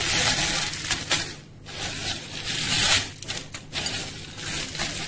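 Dry, crisp scraping and crackling as roasted whole spices for garam masala are stirred in a pan, coming in repeated strokes with brief pauses, close and fairly loud.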